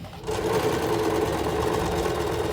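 A Usha Janome sewing machine stitching a saree picot edge starts up abruptly and runs at a steady, loud, rapid mechanical whir close by, with no talking over it.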